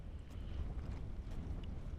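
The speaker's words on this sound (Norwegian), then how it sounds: "Det er litt mye vind her, så vi har litt problemer." Wind buffets the microphone in a low, steady rumble, fairly quiet, with faint outdoor noise and no speech.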